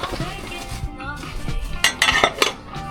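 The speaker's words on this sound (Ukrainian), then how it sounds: "Це така тарілка досить е, важка." A heavy ceramic plate is handled in a shop, giving clattering clinks and knocks of crockery that grow louder toward the end, with a voice talking underneath.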